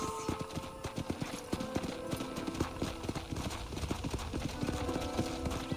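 Horse hooves clip-clop in a steady, even rhythm while riding in the video game Red Dead Redemption, close and clear, with faint game ambience beneath.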